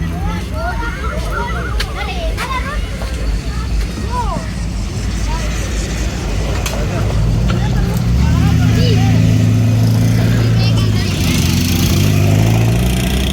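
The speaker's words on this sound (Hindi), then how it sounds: "और 2 गाड़ियाँ आ रही हैं, पुराने मॉडल्स और बहुत ही महंगे और प्यारे मॉडल्स" Vintage, expensive old-model cars rolling in at a classic car exhibition at Farrer Hall in Karachi, a steady engine drone that grows louder and lower as they approach, with a crowd talking throughout.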